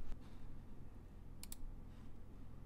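A quiet computer mouse click, with a faint double click standing out over low room hum.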